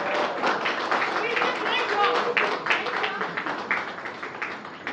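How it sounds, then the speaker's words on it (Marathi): A crowd applauds at a Marathi film promotional event, dense overlapping claps that swell and then gradually fade, with voices mixed into the noise. "प्लीज आमच्यासाठी टाळ्या वाजवा"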